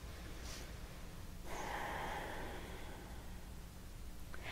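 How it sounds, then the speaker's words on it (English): A single deep inhale drawn in through the nose or mouth during a calm guided relaxation, a soft airy rush lasting about a second, close and alone with no talk. "Take a deep breath in."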